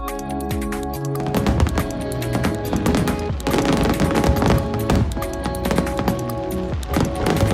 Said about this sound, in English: The fireworks were awesome.